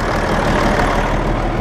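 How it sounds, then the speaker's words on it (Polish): A freshly overhauled Zetor tractor engine idles steadily, a close, loud, even diesel rumble with no talk over it. "silnik ładnie pracuje"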